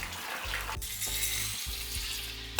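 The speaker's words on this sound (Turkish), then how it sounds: "Sıcak suyu kemiğin üzerine boşaltıyorum." Hot water pours steadily over bones in a pressure cooker pot with a hissing, bubbling rush that shifts in pitch, ending with a sharp clatter.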